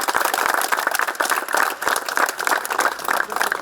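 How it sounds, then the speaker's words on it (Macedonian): A crowd at a political meeting with residents in Mirkovci bursts into dense, lively clapping, loud and close, with uneven bursts that run steadily from start to finish. "Може ли еден голем аплауз за Зоки и за овие луѓе што ги кажеме во зборови?"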